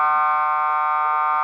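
A loud, continuous electronic buzzer tone, flat and unbroken for its whole length, marking the end of a quarter at a game.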